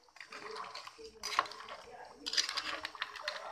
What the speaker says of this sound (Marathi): पाच मिनिटानंतर झाकण काढून चमच्याने थोडंसं हलवून घ्यायचं.